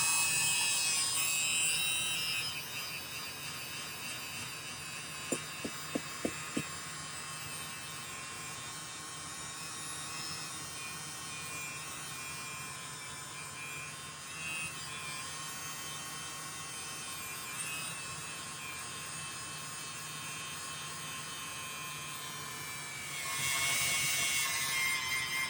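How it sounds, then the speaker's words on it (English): Pliers pressed against a spinning blue fine polishing wheel give a steady high-pitched grinding whine, loud and continuous. A few quick sharp ticks fall partway through, and the whine drops away near the end. "going to switch to a different polishing wheel now, the kind of blue fine wheel"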